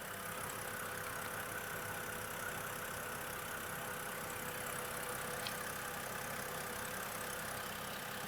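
A steady, low mechanical engine hum runs unbroken with no talking, the even rumble of a BMW E9X idling in drive close by.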